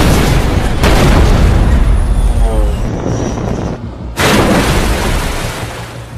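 A loud explosive boom bursts out, followed by rumbling and debris-like noise, then a second heavy blast; voices are heard faintly amid the chaos.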